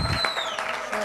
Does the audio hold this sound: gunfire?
no